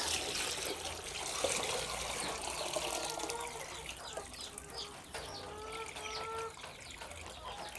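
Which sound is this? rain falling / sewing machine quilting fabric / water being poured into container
water being poured into container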